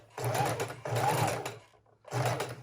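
A sewing machine stitches ribbon onto junk journal pages in two sustained runs with a short pause between them, then starts again, loud and close with a steady whirring motor.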